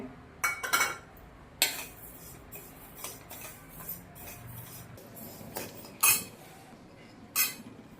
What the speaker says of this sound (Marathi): आता पहिल्यांदा मी हे तांदूळ आहे ते भाजून घेते